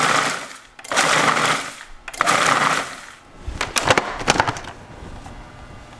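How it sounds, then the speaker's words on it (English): A food processor chopping nuts for an apple crisp runs in several loud whirring bursts with short pauses between, then rattles as the pieces tumble. "put these nuts in and give it all a whirl"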